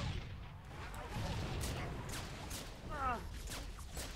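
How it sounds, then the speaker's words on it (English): Fuel rod cannon fire in the Halo video game, with muffled booming blasts and rumbling impacts rolling through a noisy battle mix and a brief whooshing sweep near the end, moderately faint overall. "Oh boy, someone's got a fuel rod cannon."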